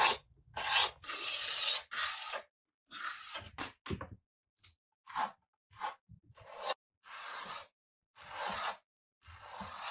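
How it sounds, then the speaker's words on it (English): A hand scraper drags over the trim edges of a wooden dresser in short rasping strokes, separated by brief pauses, close and fairly loud. "For the trim around the edges, I switched to a different scraper"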